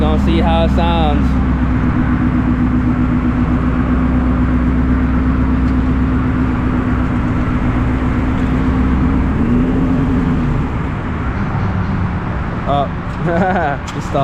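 A Ford Shelby GT350 engine running near the listener, a loud continuous rumble with a droning tone that shifts near the end, with people talking over it briefly.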